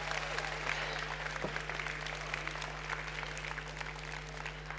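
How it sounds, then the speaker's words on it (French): Audience applause at a youth programme session during the ChangeNOW 2024 event, a steady wash of many hands clapping with a low hum underneath, moderately loud and continuous throughout. "on peut encore les applaudir bien fort"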